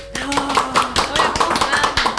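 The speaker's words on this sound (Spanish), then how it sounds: "Aplausos." A small group in a casual podcast studio claps briefly, a few quick uneven claps close to the microphone, with voices talking around them.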